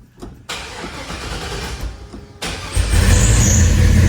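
A 1953 Chevrolet 3100 pickup with an LS swap engine cranks with a starter whir, catches, and rumbles into a loud, deep idle close by.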